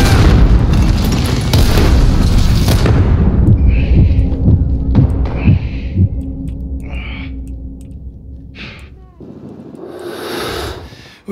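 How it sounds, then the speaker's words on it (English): Grenade explosion in Call of Duty Modern Warfare, a loud, close boom with rumbling low-end decay that opens the clip, followed by scattered distant pops and game effects. "Grenade out!"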